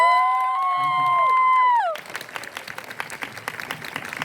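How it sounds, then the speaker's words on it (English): A VidCon panel audience breaks into close, dense applause with scattered cheers, starting abruptly after a sustained tonal sound and continuing steadily to the end. "Let's have a round of applause for Green."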